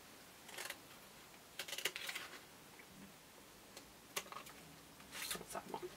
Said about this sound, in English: I want to cut this little piece off.